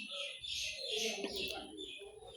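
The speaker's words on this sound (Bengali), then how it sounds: "বিকাল হইলে পাখি কিচিমিচি করে ডাকতে থাকে।" Birds chirp and twitter near a house in the afternoon, a steady high twittering running beneath a person talking throughout.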